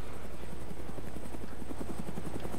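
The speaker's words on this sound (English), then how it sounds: "They just want to kill me with their chopper" Helicopter from the video game DayZ, a steady chopping rotor beat with a sustained engine whine, fairly close and continuous, with no talk over it.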